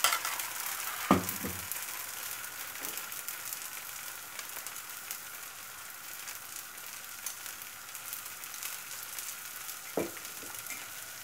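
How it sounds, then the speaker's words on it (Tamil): Bottle gourd dosa batter sizzling on a hot griddle, a steady close hiss of frying with a few light clinks of a utensil, and no talk. "இப்போ நம்ம தோசை ஊற்றிடலாம்"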